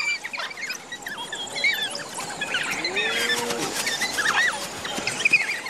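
A chorus of high, chirping and squealing calls, bird-like twitters and whines overlapping continuously, with a faint lower moan in the middle, all at moderate distance.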